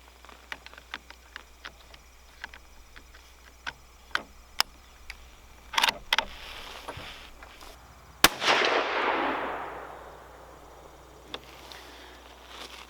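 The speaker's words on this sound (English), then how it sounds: "We're going to take a 4th shot at that one." A single sharp rifle shot from a Savage Axis II chambered in 350 Legend cracks loudly at the range, followed by a long decaying echo, with faint ticking and scattered clicks before it.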